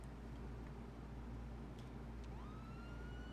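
Ambulance sirens in GTA 5 during a paramedic mod run with a Durastar ambulance: a rising siren wail sweeps up near the end over a steady low engine rumble, moderately loud and continuous with no talking.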